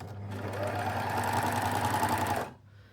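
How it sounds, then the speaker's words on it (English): An overlocker sews an elasticated waistband onto a dress bodice in one loud, continuous whirring run of rapid stitching that stops abruptly near the end, leaving a faint quiet tail. "you just overlock straight off"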